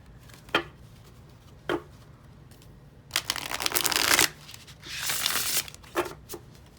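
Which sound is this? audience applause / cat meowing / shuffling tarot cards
shuffling tarot cards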